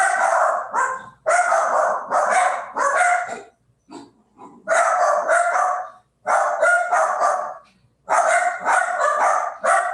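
A dog barks loudly and close by in repeated bursts of several sharp barks, separated by short pauses, with no talking.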